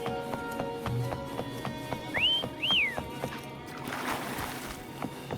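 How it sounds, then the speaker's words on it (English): Two rising-and-falling whistle notes sound clearly in the game Wuthering Waves, layered over soft clip-clopping steps and a gentle ambient musical bed, with a brief airy swell afterward. "Try whistling."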